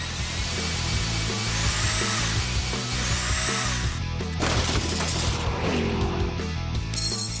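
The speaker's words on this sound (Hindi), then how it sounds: "एक ड्रिल।" A power drill whirs loudly and continuously as a weapon in a cartoon robot fight, layered with other tonal mechanical sounds.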